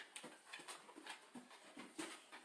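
Quick, quiet breathy panting from a dog close by, in short irregular puffs with a faint whimper mixed in.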